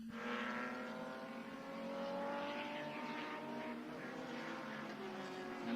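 Group of vintage race cars from Groups 5, 8 and 12B racing at the Mid-Ohio circuit, engines droning and rising as they pass at a distance, a steady blend of several motors at moderate volume.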